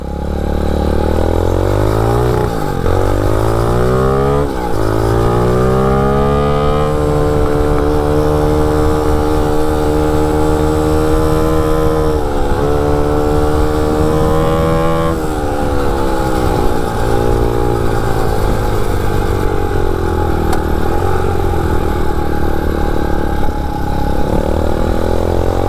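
MotoVox minibike fitted with a 200cc dirt bike engine being ridden, loud close engine drone that revs up and down through several gear-like climbs and pitch shifts, steady throttle in between, no talk.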